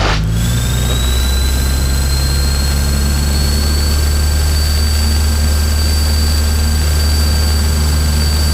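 A Cessna Skyhawk engine runs at full power on the takeoff roll at Apple Valley, a loud, steady, unbroken propeller drone with a faint rising whine, heard up close from inside the cockpit.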